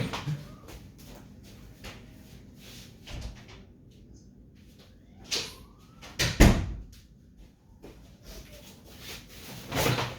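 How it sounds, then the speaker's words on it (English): Repeated knocking and thumping of a cat attacking a door, irregular bangs spread out over several seconds, with a louder cluster of impacts in the middle and near the end. "The cat is attacking the door."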